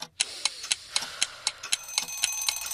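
A bedside alarm clock ticks in a quick, even rhythm, close and clear, with a faint steady ringing tone underneath.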